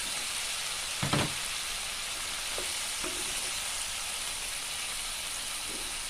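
Gourd pieces go into a pan of prawns that have been frying for about ten minutes, setting off a steady close sizzle, with a short clatter of the addition and a few light stirring knocks.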